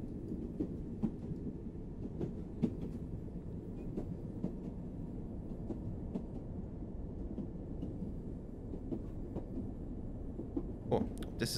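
A Class 800 train runs in the video game Train Sim World 2022, giving a steady low rumble with scattered faint clicks and knocks throughout and a few sharper rattles near the end.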